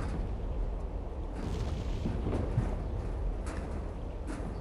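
A video-game explosion in Freedom Fighters, heard as a loud, broad rumbling boom that rolls on and keeps a dense, roaring layer for several seconds with no distinct breaks.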